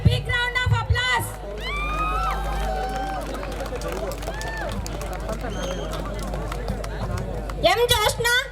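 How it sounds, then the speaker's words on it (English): During a college farewell celebration, the crowd gives a big round of applause as outstanding students receive awards. Sustained clapping and a buzzing hubbub run throughout, with whoops and cheering voices rising loudly at the beginning and again near the end. "A big round of applause."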